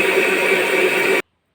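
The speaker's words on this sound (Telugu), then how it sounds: "ఇప్పుడు మిక్సీ పెట్టుకుందాం." A mixer grinder blends green chilli, tamarind and salt chutney with a loud, steady whirring roar that cuts off abruptly after about a second.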